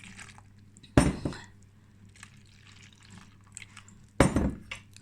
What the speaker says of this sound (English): They add some water,